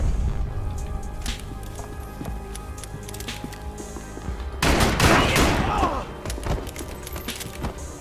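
Gunfire in the video game Max Payne 3 erupts in a sudden dense burst of rapid shots over a background of game ambience and scattered sounds, lasting about a second and a half before fading.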